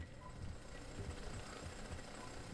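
Drill enemy machines in the Jak & Daxter video game, a rapid mechanical hammering chatter that pulses irregularly, faint and steady throughout with no talk.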